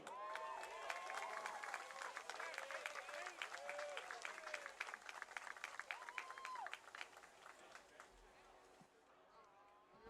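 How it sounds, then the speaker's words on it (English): At a high school football game, a crowd applauds the seniors, scattered clapping mixed with loud cheering and shouting voices that swell and fade, thinning out toward the end. "let's have a big round of applause"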